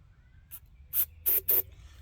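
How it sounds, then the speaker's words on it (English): Gum cutter sprays into the spark plug hole of a Troy-Bilt Horse tiller engine in several short hissing bursts, the last two longer and louder, close by with no talk. "I'm gonna go ahead and spray some this gum cutter down in the spark plug hole"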